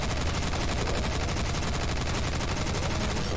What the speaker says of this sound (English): Alright, I'm going to shoot a bunch on here.